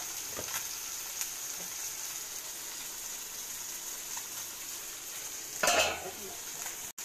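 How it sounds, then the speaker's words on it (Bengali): Mola fish frying in a pan gives a faint, steady sizzle under a hiss, with a louder burst of spattering near the end and occasional light utensil clinks. "এইখানে মোরলা মাছ ভাজা হচ্ছে"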